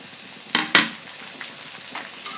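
Potatoes and pumpkin dropped into a pan of frying duck meat, two sharp sizzling bursts near the start followed by a faint, steady crackle.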